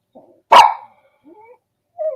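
A small dog barks once, sharp and loud up close, followed by faint whimpering whines in an otherwise quiet room.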